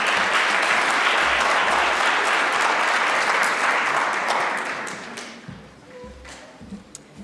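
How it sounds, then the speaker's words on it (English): A room full of people at a school speech-night competition breaks into sustained applause, dense and steady for about five seconds before thinning to a few scattered claps and fading out. "let's give her a round of applause"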